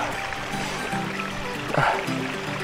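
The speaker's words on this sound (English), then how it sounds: "The path's following this little waterfall" A small waterfall stream flows beside a mountain path, giving a steady, moderately loud rush and trickle of water throughout, with a faint voice or brief sound briefly rising above it.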